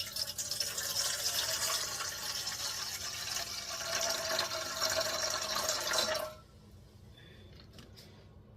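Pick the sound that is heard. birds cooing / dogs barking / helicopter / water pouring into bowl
water pouring into bowl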